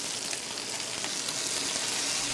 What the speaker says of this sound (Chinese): 热油，中火慢煎，直至山坑鱼两面变得焦黄